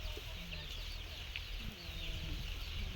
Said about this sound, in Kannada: ಇಲ್ಲ ಅದೊಂದು ಕೋಳಿ ಐತಿ ನೋಡ್ರಿ.